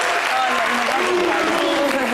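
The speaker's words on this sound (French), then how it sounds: "Applaudissez pour la présidente." Studio audience applause on a television game show, a dense steady wash of clapping throughout with voices talking over it.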